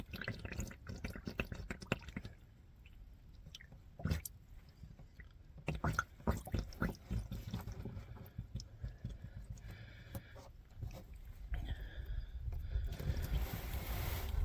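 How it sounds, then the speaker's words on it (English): Motor oil drains from a 2016 Ram 1500 5.7L V8 into a drain pan. Quiet, close, irregular drips and trickles patter throughout, with scattered small knocks. "When you get to the end, you got to move the pan a little bit so that it can dribble down in there."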